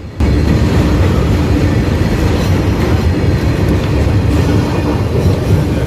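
A BOXN freight train rumbles steadily past a railway crossing, loud and close throughout, with continuous wheel clatter and a deep rolling roar and no pause.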